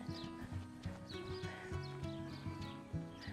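A horse walks with a big, steady stride, its hooves clip-clopping in a regular rhythm, close and moderately loud, with no talking over it.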